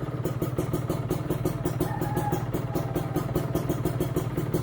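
A motorcycle engine idles close by with a steady, even throb and a light mechanical clatter, running on its own while the bike's battery charges and a phone is charged from it.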